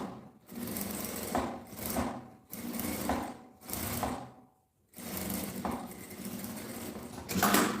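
A Jack A5E industrial sewing machine stitches a bag lining in loud, steady mechanical bursts of rapid needle whirring, stopping briefly between runs with a near-silent pause mid-way before resuming.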